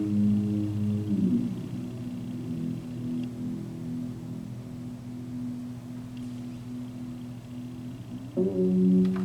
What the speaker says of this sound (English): it's a very like sub bass. It's very low.